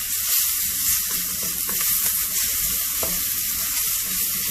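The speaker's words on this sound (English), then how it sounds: "let the onions cook for a while" Onions sizzle steadily in a pan for spicy Thai basil tofu, a loud, continuous hiss close by with a few faint stirring scrapes underneath.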